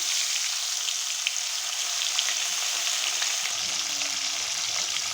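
Ganges aair fish, rubbed with salt and turmeric, frying in hot oil in a kadai, with a steady, close, bright sizzle and crackle that runs throughout with no talk.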